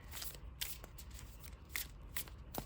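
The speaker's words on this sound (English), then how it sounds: "We gotta play some Digimon, so last bit of shuffling here." Digimon trading cards are shuffled by hand in a short run of crisp riffling bursts and soft slaps, close and fairly quiet, with no talking.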